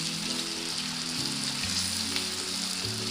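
Chicken drumstick pieces sizzle steadily in hot oil in a kadai on low heat, a dense close crackle with faint popping and a low hum beneath, no voices.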